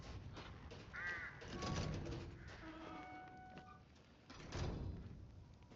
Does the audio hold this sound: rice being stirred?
no